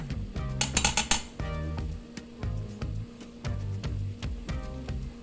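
Close mechanical ratcheting clicks from a kitchen timer being wound, rapid ticks in short bursts with brief pauses between turns.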